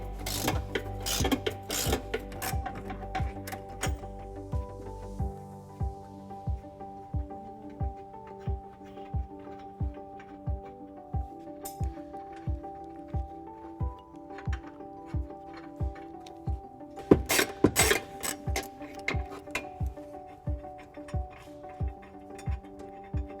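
Regular ratcheting clicks from an 18mm socket wrench loosening the nuts that hold the bumper to the frame of a 2018 Jeep Wrangler, a steady close tick-tick rhythm running throughout with a few louder metallic clanks near the end.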